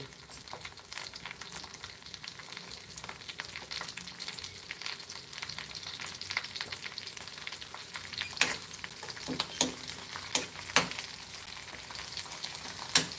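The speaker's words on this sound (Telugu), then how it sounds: "పప్పు మునగాకి మన తాలింపు రెడీ చేస్తున్నాం" Oil sizzles and spatters steadily in a pan, with sharper crackles and pops bursting out toward the end as tempering spices for dal with drumstick leaves hit the heat.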